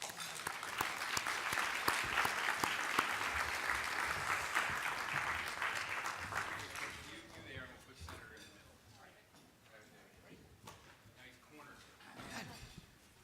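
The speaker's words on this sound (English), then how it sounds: "Big round of applause." Loud applause from a crowd, sustained clapping that gradually fades after several seconds into scattered claps and murmuring.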